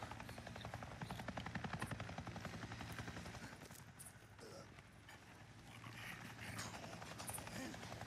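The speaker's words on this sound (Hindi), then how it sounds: "वही हेलीकॉप्टर की आवाज कहां से आ रही?" Helicopter flying in the video game Days Gone, a steady rhythmic rotor chop with engine drone running throughout, with a voice speaking over it.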